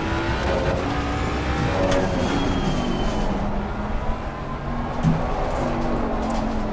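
A 550 HP Mustang GT3 race car runs on track under light maintenance throttle, giving a steady, close engine roar with a dense drone throughout and a brief louder swell near the end. No one speaks.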